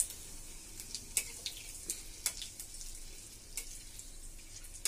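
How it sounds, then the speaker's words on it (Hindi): Cloves, cinnamon, a red chili and bay leaves frying in hot oil for a curry, giving a soft, steady sizzle with scattered crackles and pops, heard alone without talk. "अब मैं इसमें ये लौंग और दालचीनी डाल देती हूँ, ये भी फ्राई हो गया"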